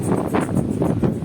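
Strong wind gusts buffet the microphone at a high, exposed point on a long bridge along a mountain road, a steady broadband roar swelling in pulses, close and loud with no voices.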